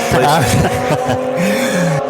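Production race cars, among them a small RX-7, cross the finish line of a WA production car race with rising and falling engine tones, while a commentator talks over them.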